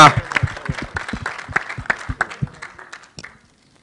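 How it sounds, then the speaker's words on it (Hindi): Enthusiastic applause from an audience at a Hate Story 3 film promotion event, dense claps at first that thin out and fade to silence within about three seconds. "एक बार जोरदार तालियां हो जाए हेट स्टोरी 3 की स्टार कास्ट के लिए"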